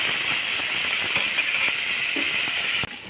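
Onion, red chillies, cinnamon, cardamom and bay leaf fry in hot oil in a wok, a loud continuous hiss with faint scraping ticks and a brief dip near the end.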